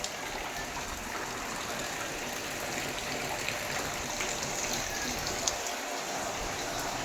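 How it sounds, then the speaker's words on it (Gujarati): Light rain falls steadily in a soft, continuous patter that holds an even level, with no talk over it. "ધીમો ધીમો વરસાદ પણ ચાલુ છે."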